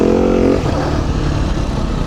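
Beta 390 dirt bike engine revving hard during a wheelie, a loud, close, buzzing roar that holds a high pitch briefly before dropping to a rougher, lower drone.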